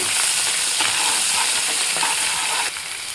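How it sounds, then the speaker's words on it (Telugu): A blended onion and tomato paste fries in a hot pan, giving a steady close sizzle broken by scraping stirring strokes, with no one talking. "ఇప్పుడైతే దీన్ని మనం వేయించుకుందామండి"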